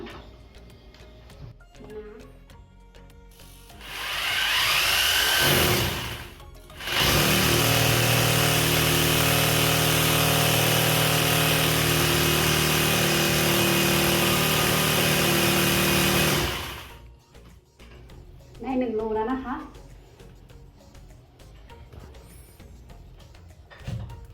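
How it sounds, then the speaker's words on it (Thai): A power drill bores into a wall to mount a curtain rail: a short loud burst, then a long steady high whine of about ten seconds, close by, with quieter handling noise and a brief voice afterward. "ใช้สว่านตัวนี้นะคะ"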